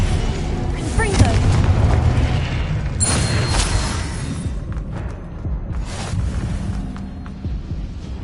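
Incendio fire spell cast in a Harry Potter video game, a loud roaring whoosh of flame with booming bursts, repeated as a voice shouts spell names over it.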